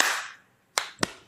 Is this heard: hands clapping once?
yes